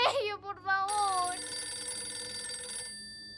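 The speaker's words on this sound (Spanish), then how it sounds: "conteste el teléfono" A home telephone rings in a bright, sustained electronic trill, starting right after a brief voice and carrying on alone before cutting off.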